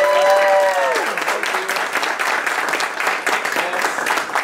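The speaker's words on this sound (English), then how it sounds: "Your applause nourishes me." Audience applause at a startup weekend event, a loud, sustained burst of clapping from a crowd that stays steady throughout, with a brief voice at the start.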